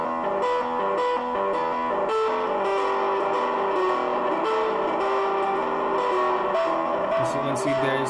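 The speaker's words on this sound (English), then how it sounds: "As for the distortion effect, we're gonna mute the echo part and unmute this" An acoustic guitar run through a distortion effect made in Python plays a continuous stream of buzzy, sustained notes and chords, fairly loud and steady with no talking.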